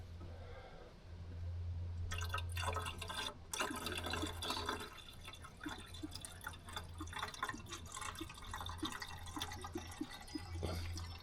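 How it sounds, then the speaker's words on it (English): Water poured slowly into the radiator of a Triumph Stag during a coolant change, splashing and gurgling steadily as air bubbles escape, with a low steady hum underneath throughout. "you can actually hear the air bubbles coming out of here"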